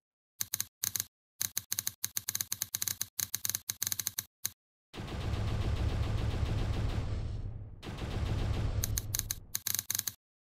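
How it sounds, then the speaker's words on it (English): A typewriter-style typing effect for game dialogue built in Godot clicks in rapid bursts of sharp ticks, broken by a longer stretch of louder continuous noise midway before the clicks return. "It had this typing effect sound when the dialogue appears."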